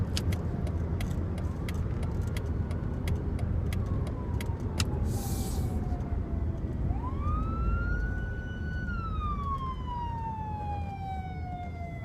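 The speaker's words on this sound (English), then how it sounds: "Okay, hear sirens." Police emergency vehicle sirens pass along a road below an overpass, a loud rising and falling wail sweeping near then trailing off, heard from inside a car over steady engine and road rumble.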